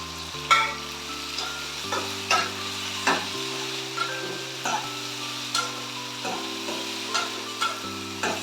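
Dried red chilies and garlic sautéing in a pan for kuzhipaniyaram, with a spoon scraping in regular strokes about twice a second over a steady bed of background music.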